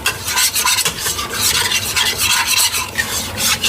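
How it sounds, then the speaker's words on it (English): A spoon scraping and rubbing steadily around a pot while lamb curry with tomato puree is stirred, a continuous rasping texture, loud and close with no talk. "Just stir well."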